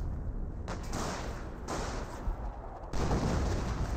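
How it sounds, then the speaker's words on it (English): A Pak 38 anti-tank gun firing in Company of Heroes, with heavy, muffled thumps and booms set against a dense, rumbling battlefield wash that jumps louder near the end. "the Pac-38 is auto-attacking"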